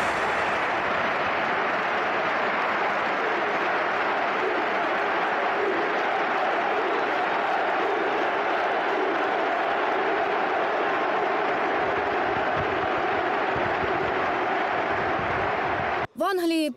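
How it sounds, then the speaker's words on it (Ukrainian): A large stadium crowd applauds a Ukrainian footballer, Roman Yaremchuk, with sustained, dense clapping and cheering filling the air at steady loudness for about sixteen seconds before a brief cut. "весь стадіон зустрів нашого Романа Яремчука стоячи, з оплесками та українськими стягами"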